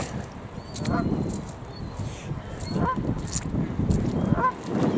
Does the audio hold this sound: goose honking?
yes